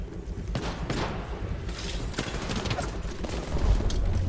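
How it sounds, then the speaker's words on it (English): Weapon fire in the battle royale game Apex Legends comes as scattered muffled shots and thuds over a low rumbling mix, with bursts at intervals and no clear speech. "Now they're getting shot."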